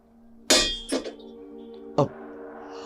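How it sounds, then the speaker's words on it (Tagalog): A heavy object slams down onto a house roof with a loud metallic clang, followed by two softer knocks and another sharp clang about a second later, all fairly close and with no talking. "Parang may mabigat na bagay na bumagsak sa may bubungan."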